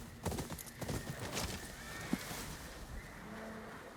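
Horse hooves clip-clopping at a gallop with a short neigh in the Ghost of Yōtei video game, rapid rhythmic hoofbeats fairly close and moderately loud, heard alone.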